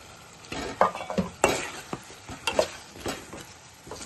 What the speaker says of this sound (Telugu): టమాటాలు ఉల్లిపాయలు మగ్గిన తర్వాత మనం ఆకరకరగాయలు కూడా వేసుకుందాం వేసుకుని కూడా నూనెలో మగ్గబెట్టుకుందాం